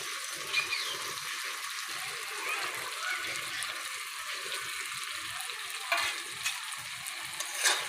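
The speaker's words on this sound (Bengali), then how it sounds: "একটু নেড়ে ছেড়ে নেব ডিম দেওয়ার পর।" Hard-boiled eggs fry and get stirred in a sizzling spice paste for an egg curry, a steady hiss of oil with occasional spatters and soft scraping under faint background voices.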